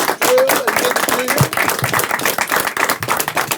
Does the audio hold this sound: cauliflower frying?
no